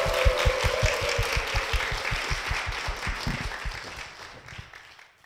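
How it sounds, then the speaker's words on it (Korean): A church congregation at Seongnam Jeil Church claps in a steady rhythmic beat to welcome a speaker, with even, regular claps that gradually fade out. "변미경 권사님 박수로 모시겠습니다"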